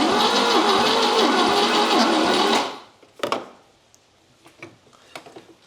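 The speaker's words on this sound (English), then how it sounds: "getting a couple of cranks out of it" A 1979 Volvo 242GT engine cranking over on the starter without catching, a steady fast churning drone for about two and a half seconds that cuts off abruptly, followed by scattered clicks and knocks.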